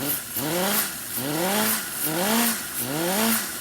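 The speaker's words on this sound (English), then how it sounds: "I love this engine because it's so quiet when it runs" A small Cison 175 nitro engine running on 10% nitro fuel revs up and down in repeated rising whines, several cycles in a row, nearby and fairly loud.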